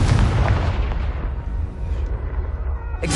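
A Confringo spell explosion in Hogwarts Legacy booms loudly at once, then rolls into a long, deep rumble that slowly fades. A fresh sharp burst cuts in right at the end.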